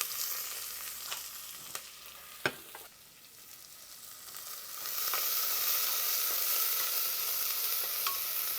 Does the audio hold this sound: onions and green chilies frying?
yes